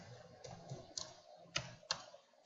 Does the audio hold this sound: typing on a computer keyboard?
yes